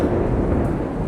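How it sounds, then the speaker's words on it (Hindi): Heavy rain pours down in a thunderstorm, a dense, steady roar with a low rumble of thunder beneath it, loud and close throughout with no break. "आप देख रहे हो पूरे बादल गरज रहे हैं, बिजली गिर रही है, इतनी तेज़ बारिश हो रही है।"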